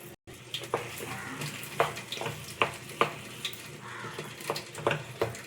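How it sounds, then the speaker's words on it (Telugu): Drumsticks (moringa pods) hit a pan of frying masala in a cashew curry, giving a sizzling, crackling fry with intermittent stirring clatters, moderately close. "ఇప్పుడు ములక్కాళ్ళు వేసేస్తున్నాం."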